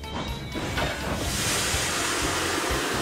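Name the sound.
steam engine huff from funnel, Percy from Thomas & Friends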